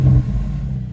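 A cold car engine rumbles low and steady at idle just after starting, loud and close, a brief continuous drone with no voices.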